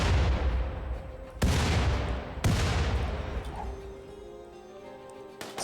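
Grenades going off in a video game: three sharp, loud blasts, each followed by a long rumbling decay, the second and third coming about a second apart, then a quieter tail and another abrupt hit at the end.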